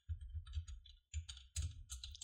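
Keys clatter on a computer keyboard in bursts of quick, close taps separated by short pauses, while someone codes HTML in an editor, with no talking.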